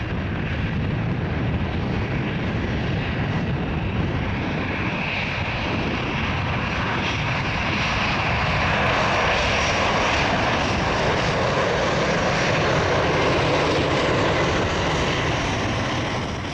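A Biman Bangladesh DC-10 airliner departs on its final flight, its jet engines producing a loud, continuous roar that holds steady throughout, with no voices.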